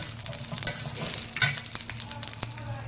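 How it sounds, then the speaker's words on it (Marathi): Peanuts and garlic cloves dry-roast together in a pan for a spicy raw-mango thecha, a close, crackling sizzle with brisk stirring scrapes and a couple of louder clacks, no voices. "आता यात भाजत भाजतच आपण फक्त शेंगदाणे पण यासोबत भाजून घेणार आहोत"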